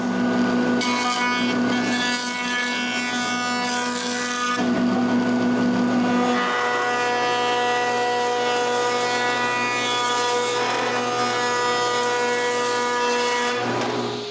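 A 2x4 piece of wood is cut for a router carriage, giving a loud, continuous rasping drone that keeps going for the whole stretch with a short change in pitch partway through.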